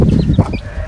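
Hens on a farm give a quick, dense burst of low clucking close by, loud and busy, lasting under a second.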